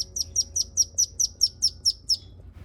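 Day-old ducklings found in a neighborhood give a rapid series of about ten high, evenly spaced peeping chirps over a faint low background hum.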